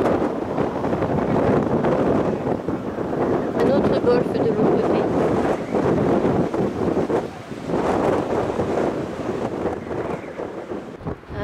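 Strong wind roars across the microphone in heavy, uneven gusts on the coast of Corsica, with a person speaking briefly beneath the buffeting.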